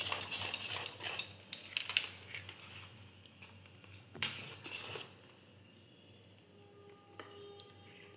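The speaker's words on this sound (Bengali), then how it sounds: "তার মধ্যে দেবো জিরের গুঁড়ো, ভালো করে মিশিয়ে নিতে হবে।" Spoon clinks and scrapes against a bowl while oat batter is mixed with cumin powder, busy at first and then fading to quiet handling with a few faint taps, no one speaking.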